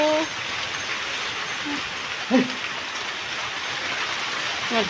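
Steady rain falls with a constant hiss, while a few brief calls from cattle or voices sound faintly in the background.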